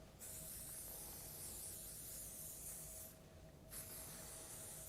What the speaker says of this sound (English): just spray that quite close into the roots